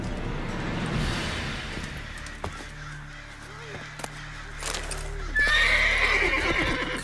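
A horse neighs and whinnies with clopping hooves in The Witcher 3 video game, set against a steady ambient background, with a brief spoken voice and a loud bright whinny near the end.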